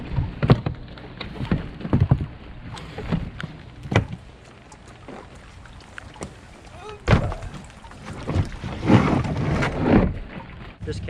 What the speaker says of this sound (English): Just gonna motor out of the harbor.